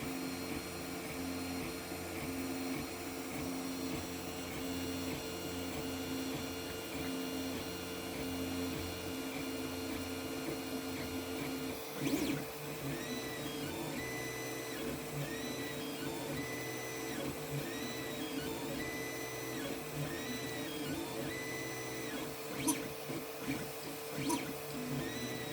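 3D printer printing in PETG, a continuous stepper-motor whine and hum with shifting tonal sweeps as the head moves, plus a few sharp clicks, running steadily throughout with no talk.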